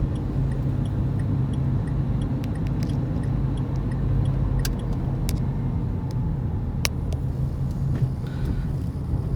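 A car's turn signal ticks under a steady engine rumble inside the cabin during a Turkish driving exam lesson, with faint regular clicks and no talking.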